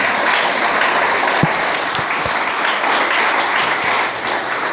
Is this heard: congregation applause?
yes